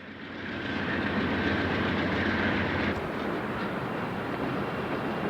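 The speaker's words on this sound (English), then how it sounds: "Two rebuilt AC-44 C6Ms are departing Kirk Yard with CN train A491 for Wisconsin" Two rebuilt AC44C6M locomotives lead CN train A491 out of Kirk Yard with a steady, heavy rumble and rolling wheel clatter, with a faint high whine early on that cuts out midway.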